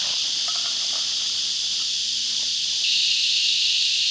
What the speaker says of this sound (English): Man, those cicadas are loud.